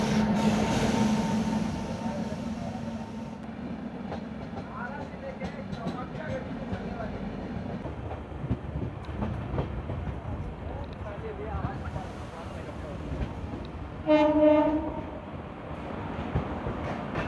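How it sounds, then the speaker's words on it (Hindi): An Indian Railways WFP7 locomotive passes at the Ara outer, heard as a steady rolling rumble with faint rail clatter and a brief horn-like tone near the end, with a voice talking over it. "आरा के आउटर पे निकल रही है WFP7"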